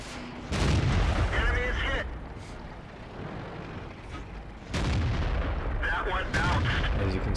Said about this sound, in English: I'm bouncing off the side of a T-29.